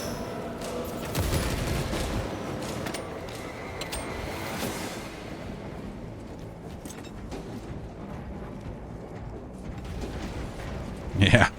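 Turret gunfire in Warhammer 40,000: Space Marine 2, bursts of rattling shots amid clanking mechanisms and battle din, ending with a louder close burst.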